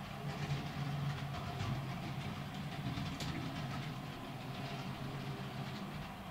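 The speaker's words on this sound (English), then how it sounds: "we are going to run the Weetabix train" A small Weetabix model train rumbles steadily along its layout track, a continuous close whirring with faint rhythmic clatter throughout.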